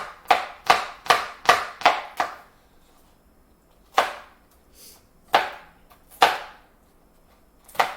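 A knife chops onions on a cutting board for guacamole. A quick burst of six sharp, close chops is followed by a pause and then a few slower, scattered strikes.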